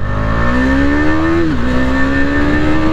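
KTM Duke 250 motorcycle revving in first gear close by: a loud, steady engine drone that climbs in pitch, dips briefly at mid-clip, then holds high and strong to the end.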